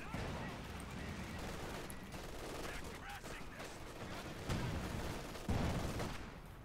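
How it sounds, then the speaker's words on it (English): Infantry squads exchange rifle and machine-gun fire in a Company of Heroes 2 battle, a dense, distant-sounding crackle of shots with a couple of louder thumps, all fairly faint under a steady background din. "Grenadiers will be firing on the Rifleman squad"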